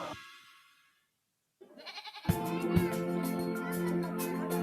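Goats kept for self-sufficiency in Nigeria bleat close by: one call fades out, a short silence follows, then wavering bleats build into a dense, continuous layer of animal cries.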